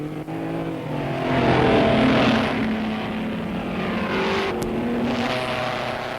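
Doug Whiteford's Maserati racing car roars around Murray's Corner at the 1959 Bathurst 100 Easter race. The engine gives a loud, sustained drone that rises and falls slightly as the car passes.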